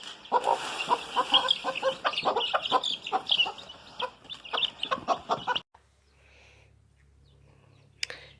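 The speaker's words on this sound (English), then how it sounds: "I'm standing here in the little pig pen watching the chickens." Chickens clucking and chattering nearby in a small farm pig pen for several seconds, then a sudden drop to quiet background hum with one brief sharp sound near the end.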